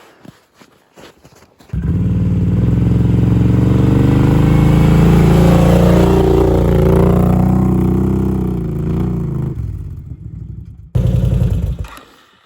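ATV engine revving as it drives through snow, starting after a few clicks, rising to a loud sustained rumble with shifting pitch, easing slightly, then a short final burst close by.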